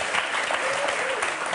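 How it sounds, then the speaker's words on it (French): Studio audience on the French game show Motus applauds the contestants, a brief burst of dense, steady clapping with a faint voice underneath. "Applaudissements pour ces demoiselles"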